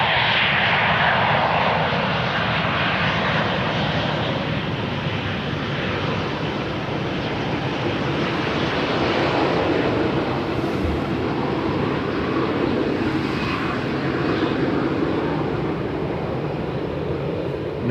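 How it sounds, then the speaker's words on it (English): Boeing airliner engines roar steadily as the jet keeps up speed on the Polderbaan runway at Amsterdam Schiphol, a loud continuous broadband rush heard from the spotting point without talk. "Boeing keeping up the speed."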